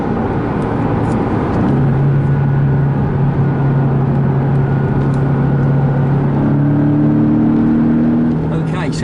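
Porsche 718 Boxster engine pulling hard from inside the car, a throaty, droning growl whose pitch holds and then steps up with acceleration over steady road noise.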